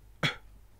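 A single sharp beatbox cough snare, a short, forceful burst of breath from the throat made by a human voice to imitate a snare drum, close and alone in near silence.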